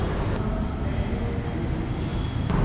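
A metro train at Aluva station in Kochi produces a steady, moderately loud rolling rumble with a couple of brief sharp clicks. There is no talking.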